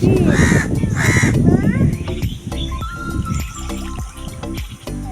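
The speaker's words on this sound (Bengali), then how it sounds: "এখানে পাখির আওয়াজের থেকে কাকের শব্দ বেশি শোনা যাচ্ছে" Crows caw loudly nearby in two harsh bursts, followed by fainter calls from other birds in the background.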